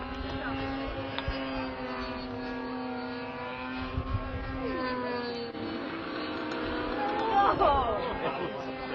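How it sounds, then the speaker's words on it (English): Propeller planes roar past at an airshow in New Hampshire in 1995, including a Christen Eagle, with engine pitch sliding as they pass, one growing louder near the end, over distant crowd murmur. "If you thought those two planes came close together, you were right."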